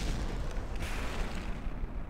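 Missiles striking and exploding in From the Depths, a continuous low roaring rumble of blasts that stays steady and moderately loud throughout, with no voices.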